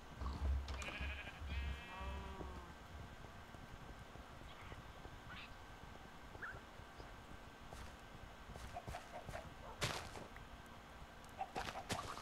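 Cows lowing in the Minecraft video game, a few short, faint calls early on, followed by scattered soft clicks and game noises.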